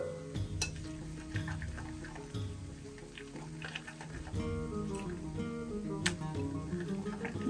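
A spoon stirs idli masala with freshly added green coriander in a pan for Hyderabad-style crunchy tawa idli, with soft scraping and light sizzling at moderate volume.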